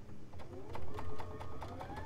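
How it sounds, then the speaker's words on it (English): A sewing machine stitches a Shoo Fly Star quilt block, running in a quick, steady mechanical patter with rising whirring motor tone, close and fairly soft, over a brief stretch of about two seconds. "we're going to sew down here"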